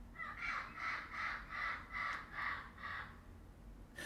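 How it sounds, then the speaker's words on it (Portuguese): Parrots in a tree outside a studio call in a steady series of about seven harsh, rhythmic squawks, moderately distant and fairly faint over a low background hum. "tem um monte de papagaio, eles não param de cantar, ó."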